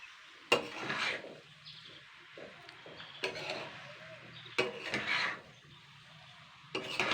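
A spoon scrapes and pushes leftover rice around a pan for chicken pulao in short bursts of stirring, with scraping strokes separated by brief pauses, close and moderately loud.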